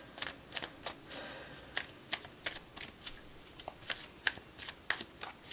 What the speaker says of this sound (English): I want to go ahead and pull some more tarot cards as well.